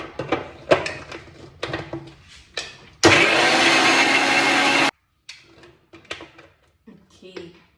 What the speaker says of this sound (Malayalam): സ്വല്പം വെള്ളം ഒഴിച്ചിട്ട് നമുക്കിതൊന്ന് മിക്സിയിൽ ഒന്ന് ബ്ലെൻഡ് ചെയ്തെടുക്കാം